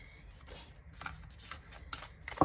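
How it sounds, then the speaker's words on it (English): A large, thick tarot deck is riffled and shuffled by hand, with soft, close papery flutters and taps in quick bursts ending in a sharper snap, and no talk. "I'm gonna try to shuffle this a little bit more"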